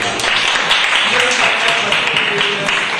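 Children at a school program clapping together, a dense, steady burst of applause lasting a few seconds with voices faintly underneath.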